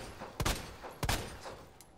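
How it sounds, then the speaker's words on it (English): Sharp gunshots ring out in the Resident Evil 2 remake, two loud distinct blasts with a fainter third near the end, close and crisp with no talking. "That was 4 shots, yeah."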